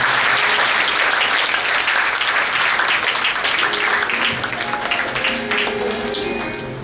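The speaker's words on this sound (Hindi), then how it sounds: "एक बार अपने अपने माता पिता के लिए जोरदार तालियां बजा पा रहे हैं।" Loud, sustained applause from a large devotional gathering at a Guru Poornima assembly, dense clapping filling the whole stretch near and steady, tapering slightly at the end, with no talk over it.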